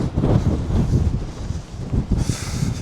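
Wind gusting on a windy hilltop in an apple-growing town, a steady low rumble of buffeting against the microphone that swells and eases over a few seconds.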